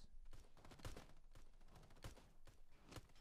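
SMG gunfire in a video game, heard as a few faint, widely spaced sharp shots over a dull background hum.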